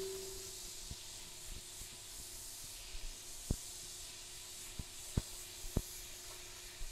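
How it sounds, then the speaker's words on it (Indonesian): Butter melts in a hot pan while cooking spaghetti bolognese, giving a soft, steady hiss broken by occasional faint pops and crackles, quiet and close with no talk. "Biarin dulu menteganya mencair ya, guys, biar panas"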